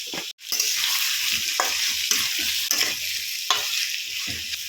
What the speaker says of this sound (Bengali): আলুটা দু তিন মিনিট একটু নাড়াচাড়া করে ভেজে নিয়ে